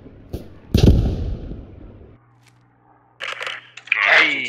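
Mortar shells exploding in the World War II shooter Post Scriptum, a couple of sharp booming impacts early on, then quieter crackling and distant bursts near the end.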